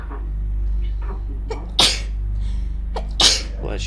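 Two sharp sneezes spaced about a second and a half apart, each a sudden loud burst over a steady low hum.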